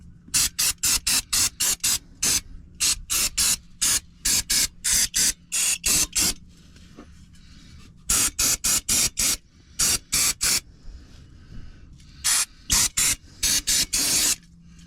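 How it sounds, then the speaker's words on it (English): Aerosol brake cleaner is sprayed onto the engine parts of a Nissan 300ZX twin turbo during a rear main seal job, in quick loud close bursts of hiss grouped in irregular runs with brief gaps. "Well, I've given that a clean up with the brake cleaner."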